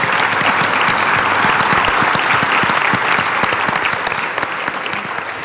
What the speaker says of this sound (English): would just like to invite everyone to a round of applause to say thank you to them and the organizers